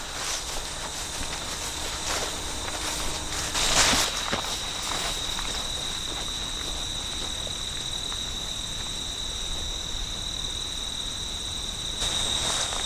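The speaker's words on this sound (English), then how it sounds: "Quite a few insects. Different like brush crickets and things like that." Brush crickets chirp in a steady, continuous high trill across open hill preserve grassland, with footsteps crunching nearby and a brief louder rustle midway.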